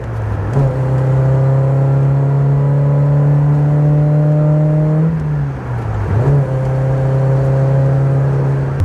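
A 1986 Toyota AE86 Corolla GT engine revs hard and loud, holding a high steady drone for about five seconds, dropping briefly, then climbing and holding again, with no talk.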